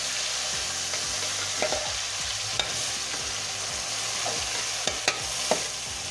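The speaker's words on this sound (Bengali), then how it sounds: "দেওয়ার পর দিয়ে দেবো চপ করা পেঁয়াজ" Chopped onions frying in hot oil with whole garam masala and bay leaf in a pan, a steady close sizzle broken by scraping stirs and a few sharp utensil clicks against the pan.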